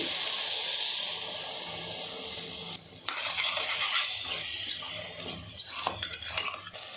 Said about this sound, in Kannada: ಈಗ ಸ್ವಲ್ಪ ನೀರು ಹಾಕ್ತಾ ಇದ್ದೀನಿ